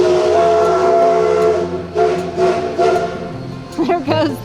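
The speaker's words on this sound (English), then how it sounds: "There goes the train" Sustained loud steam whistle of a train, a rich harmonic tone holding for several seconds with hiss, then fading and wavering as the train departs near a historic railway post office.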